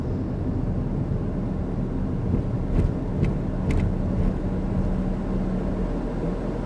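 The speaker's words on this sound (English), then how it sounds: "You see the RPM start to rise and then drop." Manual Proton Persona car engine in neutral, a steady droning idle that swells slightly as the revs rise and then settles back down, heard alone at moderate loudness.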